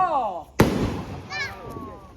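A Diwali firecracker goes off with a single sharp, loud bang, its echo trailing away while excited voices talk and shout before and after.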